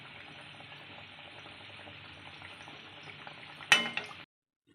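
Badusha sweets fry in hot oil with a steady, close bubbling sizzle, then a brief clatter of a utensil before the sound cuts off.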